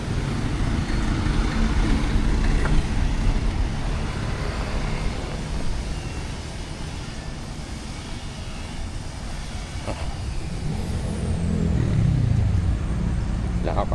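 A vehicle on a rural road in Dolores, Quezon rumbles past at moderate distance, a steady low engine and tire drone that swells near the end, with people talking nearby.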